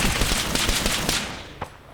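Rapid automatic fire from a MAC-10 submachine gun during close-quarters fighting in a World War II shooter video game, a dense burst of loud shots rattling continuously for over a second before tailing off, followed by one more sharp report.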